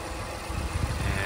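A 2017 Honda Ridgeline engine idling during maintenance, a low, steady rumble heard fairly close and alone, with slight unevenness in its pulse and no talk.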